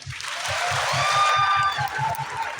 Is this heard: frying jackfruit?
no